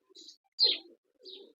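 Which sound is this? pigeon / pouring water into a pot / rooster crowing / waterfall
pigeon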